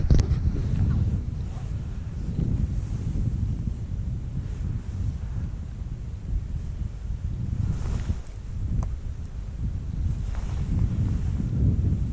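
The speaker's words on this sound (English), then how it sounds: "it's a nice wind for fishing the bung" A steady winter wind buffets the microphone while fly fishing beside water, a continuous low rumble with gentle gusting swells throughout and no talk.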